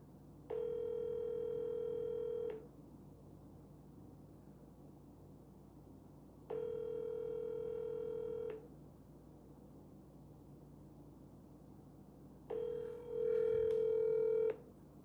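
A telephone ringback tone on an unanswered call, three evenly spaced steady two-second rings separated by long pauses, clear but fairly quiet over a low background hum, with a short burst of extra noise at the end.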